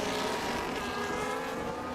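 A Formula 1 car driven by Oscar Piastri in qualifying at the USA Grand Prix, its engine a steady, loud high-pitched roar holding speed throughout without breaks.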